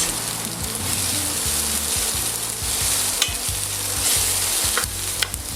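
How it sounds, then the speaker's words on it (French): Shallots sizzle loudly and steadily as they brown in a pan, a dense frying hiss with a rhythmic low hum and occasional light scrapes; no talking. "Donc là, les échalotes, je vais les colorer un petit peu"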